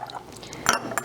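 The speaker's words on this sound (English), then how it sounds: "So I'm going to pour in maybe B a little bit faster than A." Liquid solutions poured into a glass container in a chemistry demonstration, a brief splashing fill with glassy clinks, close and fairly loud, no talk.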